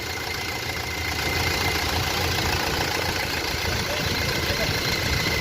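An engine started up after a broken screw is removed runs steadily, a loud, continuous mechanical drone with a slight rhythmic knock, close by throughout.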